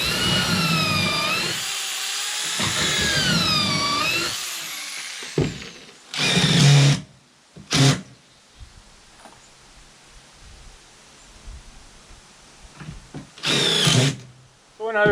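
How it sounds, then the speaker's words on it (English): A cordless drill drives screws on a job site, run off a Bluetti EB55 700-watt portable power station, giving several loud, close whirring bursts with rising pitch, separated by quiet pauses and faint handling noise. "running my drill, putting these Craig screws in."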